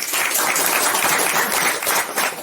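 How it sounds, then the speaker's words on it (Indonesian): Brief burst of audience applause at a gathering of IPNU/IPPNU Islamic youth members, a dense wash of clapping at moderate loudness filling the whole moment. "Luar biasa, tepuk tangan"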